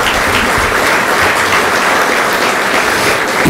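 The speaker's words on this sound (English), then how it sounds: "So please give yourselves a round of applause." A room full of people at a Pancakes & Politics 2017 forum gives sustained, loud, steady applause that fills the whole stretch with no pauses.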